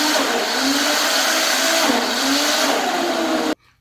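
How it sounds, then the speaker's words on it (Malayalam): A mixer grinder blends mango, yogurt and sugar for lassi with a loud, steady motor whir for about three and a half seconds, then stops abruptly. "ഇനി നമുക്ക് മിക്സിയിലേക്ക് ഇടുന്നു,"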